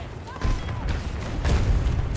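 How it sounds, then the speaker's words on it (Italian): Explosions in the video game Battlefield 1942 rumble as heavy low booms, a couple of thuds swelling over a dense battle din, loud and close. "Esplosioni."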